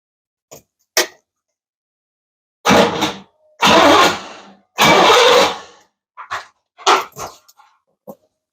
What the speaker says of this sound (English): when I turn the key to start, it does crank over